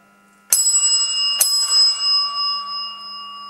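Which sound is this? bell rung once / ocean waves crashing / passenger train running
bell rung once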